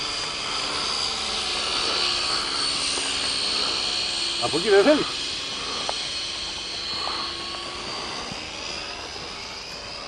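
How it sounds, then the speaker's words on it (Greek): A model airplane flies overhead outdoors, its engine a faint, steady high-pitched drone through the whole stretch, while people talk nearby. "Κοίτα το αεροπλάνο"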